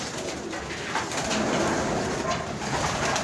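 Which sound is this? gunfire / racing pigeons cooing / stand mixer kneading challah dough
racing pigeons cooing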